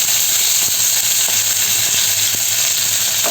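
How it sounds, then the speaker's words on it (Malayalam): Curry leaves hit hot oil for sambar and crackle in a loud, dense, continuous sizzle, with a few faint sharp pops rising through it, heard up close. "ഇതിലേക്ക് വേപ്പില ചേർത്ത് കൊടുക്കുന്നുണ്ട്."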